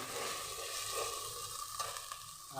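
Salted meat for Chittagong mezbani stirred in a cooking pot, a continuous close sizzle and bubbling hiss with faint stirring scrapes, no voices.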